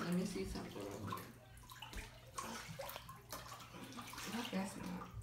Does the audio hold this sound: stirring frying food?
no